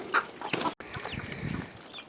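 Chickens cluck and squawk softly nearby in a garden during a drought, a few scattered calls over quiet outdoor background noise.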